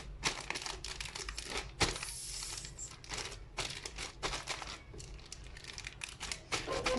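A zip-lock freezer bag holding parsley and dill is pressed flat to squeeze the air out, giving close, steady plastic crinkling and rustling in irregular bursts with no talking.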